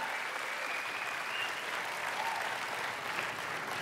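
A church congregation at a Sunday night service gives sustained, dense applause that stays loud and even throughout, with no break in the clapping.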